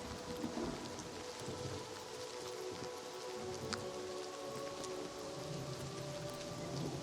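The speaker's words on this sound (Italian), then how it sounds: "Come batte forte il vento." A storm in the video game Oblivion: steady roaring wind and rain-like hiss fill the whole stretch, a continuous dense wash with no talk.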